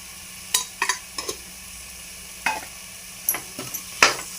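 Chicken biryani ingredients with turmeric powder are stirred in a pan, giving a handful of short scraping and clinking strokes over a faint sizzle.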